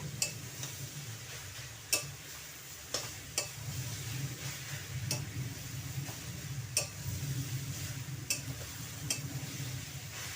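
Papaya curry with greens stirred in a pan, a spoon scraping and knocking at spaced intervals over a steady low sizzle of frying, close and moderately loud with no talk.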